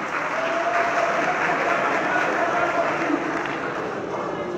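Crowd applause at a public launch event in the Democratic Republic of the Congo, a steady dense wash of clapping held throughout with voices mixed in.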